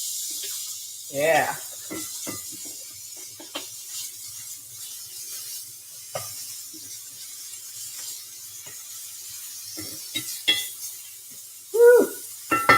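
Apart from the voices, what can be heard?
uncured pasture bacon sizzling in a hot skillet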